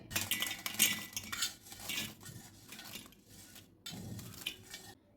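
Potato curry spooned from a pan into a bowl, with close metal spoon scrapes and clinks against the pan in busy bursts, a brief pause, then more scraping.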